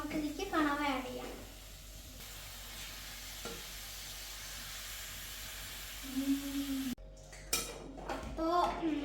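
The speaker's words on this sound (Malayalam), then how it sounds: "ഇനി നമുക്ക് ഇതിലേക്ക് കണവ ആഡ് ചെയ്യാം." Squid tipped into a pan of masala for roasting, giving a steady frying sizzle and hiss with utensil scrapes and clatters as it is stirred, while a person talks over the cooking at the start and end.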